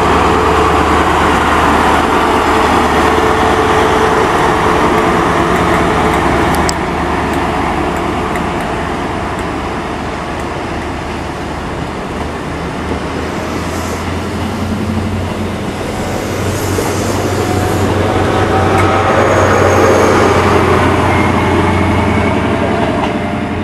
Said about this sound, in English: you can hear the engine starting to sort of calm itself before it starts revving